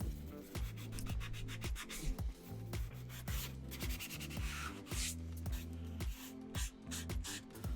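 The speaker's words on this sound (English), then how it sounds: "We're going to take our sanding sponge." A sanding sponge scrubs over a helmet coated in rapid fill, loud close rhythmic back-and-forth strokes with a steady scratchy texture.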